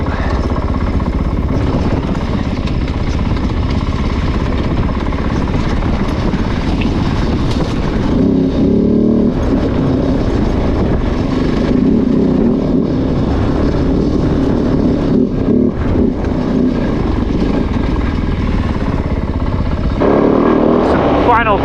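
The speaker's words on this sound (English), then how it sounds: "Freaking awesome motorcycle. Even with the engine not having a lot of power, it is so much fun to ride this bike." A Kove 450 Rally dual-sport motorcycle climbing steep singletrack in British Columbia, its engine droning loud and steady close by, with rising and falling revs and talk over the top.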